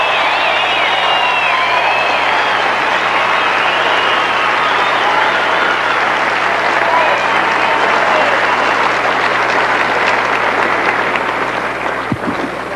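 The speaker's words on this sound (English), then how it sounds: "the applause from the crowd" Sustained applause from a large stadium crowd at the 1984 Los Angeles Olympic men's volleyball medal ceremony, a dense steady roar of clapping throughout with a faint whistle near the end.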